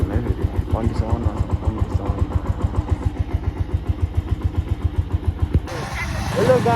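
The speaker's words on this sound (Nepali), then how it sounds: "पुरानो बाइक भयो भने जोर दिँदैन है फेरि कन्डिसन" An old motorbike engine idles with a steady, rapid thudding pulse, then changes near the end. People are talking over it.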